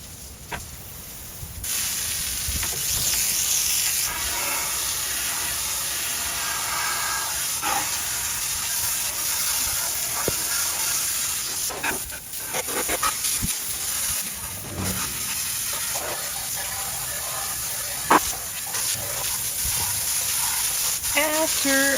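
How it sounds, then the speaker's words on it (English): A power hose sprays water to rinse an antique writing desk, giving a continuous loud hissing spray that runs nearly the whole time with small shifts in intensity. "After I used a power hose to rinse it off"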